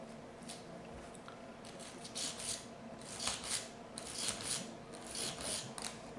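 A brush scrubs inside the cylinder chambers of a Smith & Wesson 620 .357 Magnum revolver, producing quiet, close, irregular bursts of bristly scraping.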